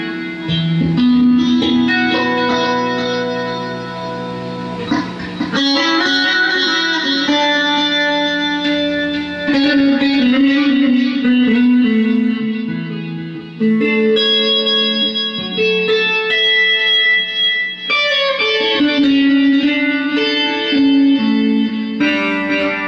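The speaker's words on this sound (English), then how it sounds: "Echo in the chorus. It gives that kind of big, lush, clean tone for strumming chords and stuff" Clean electric guitar with echo and chorus effects strums full, lush chords that ring out with long wet tails, loud and continuous with no talking.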